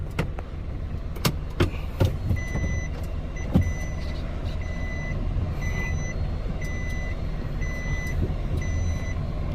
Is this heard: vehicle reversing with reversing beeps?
yes